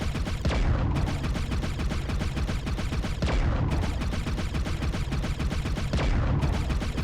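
MechWarrior Online mech weapons cycle in chain fire, each shot loud and close in a steady stream, with a heavier discharge roughly every three seconds.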